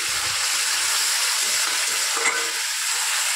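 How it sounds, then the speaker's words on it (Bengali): Spice paste with turmeric and salt fries in oil in a pan, giving a steady, loud, close sizzle that runs unbroken throughout, with faint stirring scrapes and no talking. "মশলাটা ভাজা ভাজা হয়ে গেছে"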